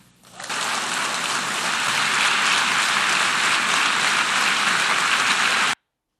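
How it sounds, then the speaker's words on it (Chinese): Standing ovation at the United Nations, a dense, sustained roar of clapping from a large crowd that swells in quickly and holds steady before cutting off abruptly. "当然是起立鼓掌嘛"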